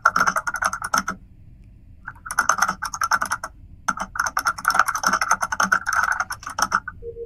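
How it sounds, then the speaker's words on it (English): Rapid, furious typing on a computer keyboard during an Among Us game comes in dense bursts of clattering keystrokes, separated by short pauses, close and loud with no voices. "Dude, you are typing so furiously."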